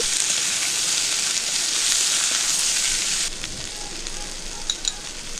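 Mixed vegetables with salt and turmeric sizzle loudly in a pan while being stirred; the frying hiss drops partway through, leaving quieter crackle and a few utensil knocks near the end.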